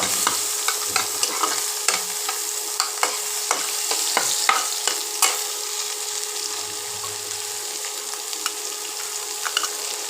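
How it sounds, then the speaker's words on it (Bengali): Spice paste stir-fried in a pan for a paneer curry, a steady bright sizzle with repeated sharp scrapes of a spatula against the metal, close and continuous with no talking. "এবার মশলাটা কষাবো।"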